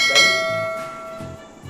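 A bright ringing bell ding for a subscribe notification strikes once and sustains with a long, clear decaying tone, alone and fairly loud.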